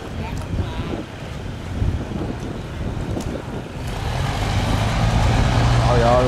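A heavily loaded barge moves on the water near a salinity-control sluice gate, with a steady low engine rumble, lapping water and strong wind buffeting the microphone that grows louder toward the end.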